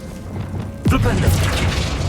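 Flipendo spell cast in Hogwarts Legacy: a sudden thudding burst of magic lands about a second in, followed by a sustained roiling whoosh layered over game combat noise and a voiced shout.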